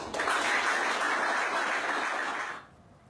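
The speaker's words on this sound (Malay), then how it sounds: "Bagikan tepukan kepada diri." A crowd claps together in a sustained burst of applause at a gathering for national football players, loud and even for about two and a half seconds before quickly tapering off.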